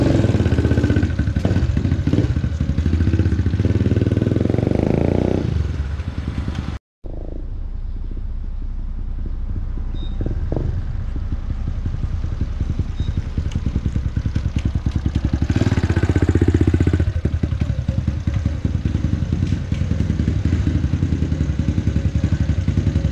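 A Yamaha LC135 motorcycle engine runs with a low, rough, clattering putter, briefly cutting out before resuming a steady idle-like rumble with a couple of louder swells.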